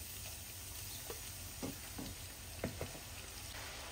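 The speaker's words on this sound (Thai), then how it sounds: "เราก็จะใส่มันฝรั่งฝอยของเราลงไปทอดเลย" Shredded potatoes frying in a pan of hot oil over medium-high heat, a soft steady sizzle with scattered faint crackles and taps of stirring, quiet and without speech.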